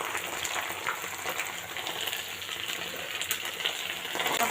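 Garlic paste hits a hot pan of cooking beef and fries with a loud, steady, crackling sizzle throughout, close and continuous with small popping bursts.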